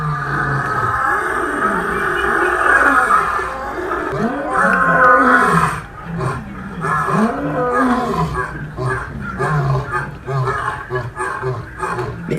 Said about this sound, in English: Lions roar at San Diego Zoo Park.